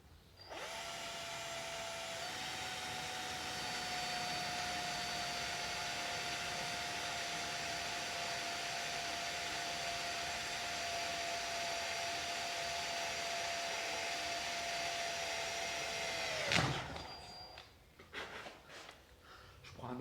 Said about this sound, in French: et du coup là je vais percer